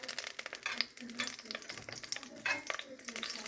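Homemade butter melts into hot oil in a soup pot, giving a crackling, spitting sizzle with bursts of popping, close and fairly busy, with a voice speaking over part of it.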